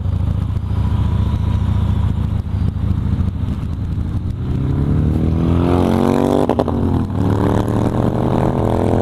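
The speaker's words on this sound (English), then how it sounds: "the purpose of this little run this morning, is just to make sure that his bike is running okay" A motorcycle engine drones steadily during a morning ride, close and loud throughout, and its pitch climbs as it accelerates toward the end.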